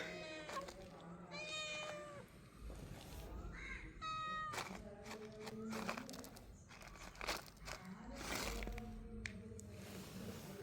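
A domestic cat meows again and again while food is held out to it. The calls are close and come in bursts, with crinkling wrapper noises between them.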